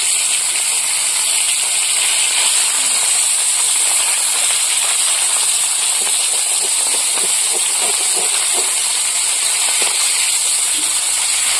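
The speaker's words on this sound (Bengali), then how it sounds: "এবার মাছটা আর একটু ভেজে নেব" Hilsa fish frying in a pan, a steady bright hiss with scattered small crackles and pops throughout, close and continuous with no talk.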